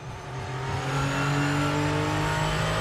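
A race car engine in a racing video game revs up and holds a loud, rising drone with strong harmonic whine, steady and close throughout.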